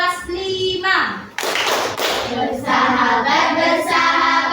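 Schoolchildren in a classroom do a rhythmic class clap, with sharp bursts of clapping between loud children's chanting voices.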